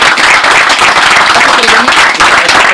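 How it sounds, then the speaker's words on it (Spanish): An audience claps at a forestry gathering in Chile, a dense, loud burst of applause filling the room steadily for a few seconds. "Un aplauso fuerte para Carlos."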